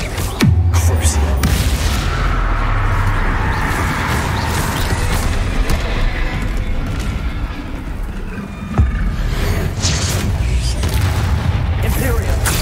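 Spell explosions from the Hogwarts Legacy video game boom and crash repeatedly, with loud blasts, rumbling impacts and sharp bursts layered throughout a chaotic battle.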